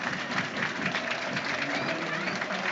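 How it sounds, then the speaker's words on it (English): Livingston supporters at a Scottish football match against Rangers applaud three substituted players off the pitch, a steady wash of crowd clapping and murmur that is fairly loud and continuous throughout, with some indistinct voices mixed in. "the Livingston fans applauding all three players off"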